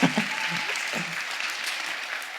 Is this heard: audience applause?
yes